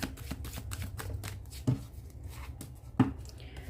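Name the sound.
tarot cards being shuffled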